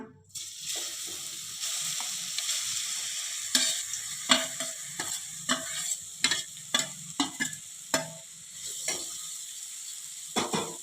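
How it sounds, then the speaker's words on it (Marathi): Grated raw green mango sautés in hot ghee, a steady close sizzle broken by repeated sharp clacks and scrapes of a spoon stirring against the pan, with no voices. "आता आपल्याला ही किसलेली कैरी एक तीन ते चार मिनटापर्यंत तुपात छान अशी परतून घ्यायची आहे"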